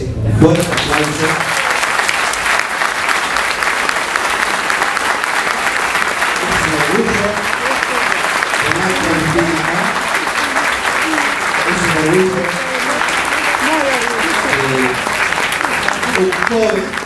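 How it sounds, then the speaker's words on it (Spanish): Loud, sustained audience applause filling an auditorium at a book presentation in honor of an author named a democratic voice of Latin America, steady clapping throughout with a voice speaking over it at times. "Creo que esto merece un fuerte aplauso."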